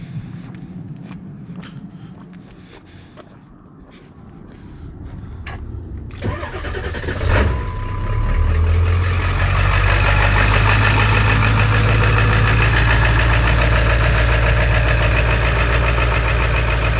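A 2002 Ford engine cranks and fires up, then settles into a steady loud idle; before the start, a quiet hum with faint ticking can be heard, and then comes a sharp click.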